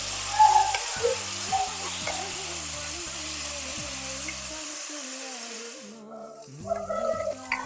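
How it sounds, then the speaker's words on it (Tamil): Chopped tomatoes and onions sauté in a hot pan for killi potta sambar, a steady close sizzle with stirring scrapes, fading briefly before picking up again. "இப்போ கட் பண்ணி வச்சிருக்கிற தக்காளி இதுல சேர்த்துக்கலாம். இதை ஒரு 2 நிமிஷம் நல்லா வதக்கி விட்டுக்கலாம்."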